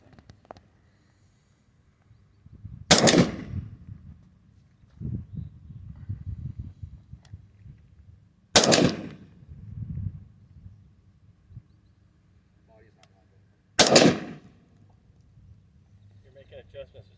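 Three sharp, loud rifle shots fired from the prone position on a shooting range, evenly spaced several seconds apart, each a sudden crack with a short decay, with quiet talk and shuffling between them.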